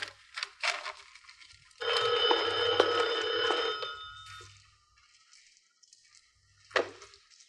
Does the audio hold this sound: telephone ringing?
yes